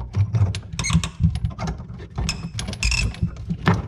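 A nut is loosened on plumbing under a kitchen sink during removal, giving close clicking, ratcheting and metallic scraping in irregular bursts with short pauses.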